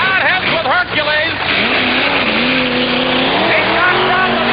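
The pulling truck Hercules revs hard and loud in short rising bursts, and excited voices shout over the engine.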